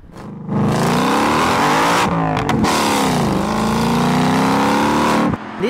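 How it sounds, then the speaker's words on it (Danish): A Ford Mustang Bullitt with a 5-liter V8 and manual gearbox roars loudly and close, revving hard through several gear changes with brief dips between pulls. "Bullet-modellen har også en lidt anden motor end den normale 5 liter V8."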